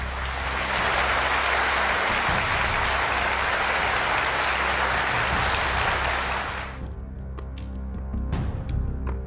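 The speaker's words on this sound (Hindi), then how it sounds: "इस्तीफा देने वाले शिंजो आबे को फूलों और तालियों की गड़गड़ाहट के साथ विदाई दी गई" A crowd gives dense, sustained applause as Shinzo Abe departs after resigning as Prime Minister of Japan and is sent off with flowers. The loud clapping holds steady for about seven seconds, then stops abruptly, leaving a few scattered sounds.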